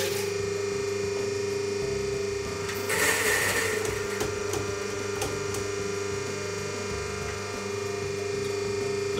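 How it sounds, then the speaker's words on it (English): An EK43 coffee grinder runs steadily with a loud motor hum, with a brief harsher burst of grinding near the start as a few grams of beans are purged through the chamber, then settles back to an even drone. "So I'll turn it on, our grinder."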